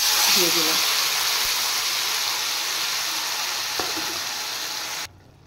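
Marinated puti fish dropped into hot oil in a pan, giving a loud, continuous frying sizzle that hisses steadily for about five seconds and then cuts off abruptly, with faint talk underneath.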